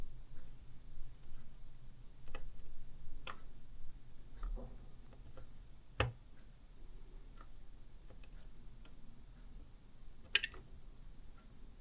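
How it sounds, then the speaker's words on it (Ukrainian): A relay inside a faulty Commax CDV-35HM video intercom ticks in faint, irregular single clicks over a low hum, with a sharper click near the middle and another close to the end. "Чуєте, спрацьовує реле."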